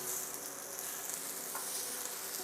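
Breakfast sausage sizzles in hot canola oil at medium-high heat, a steady bright hiss with fine popping crackle, continuous and fairly close with no voices.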